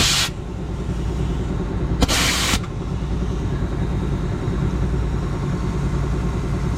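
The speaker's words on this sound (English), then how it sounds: "we'll go get the air compressor started and we'll air this up" An air compressor runs steadily at close range with a constant low mechanical drone, preceded by two short bursts of hissing air, while a flat tire is being aired up.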